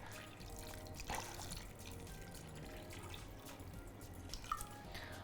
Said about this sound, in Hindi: अब इसमें आपने खुला पानी लगाना है